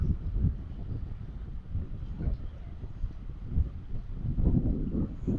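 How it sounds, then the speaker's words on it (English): Gusty wind buffets the microphone outdoors near a castle, a steady low rumble that swells and eases in uneven gusts throughout. "The wind's up a bit"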